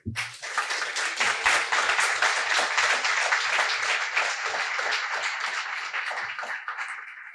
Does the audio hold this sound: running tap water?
no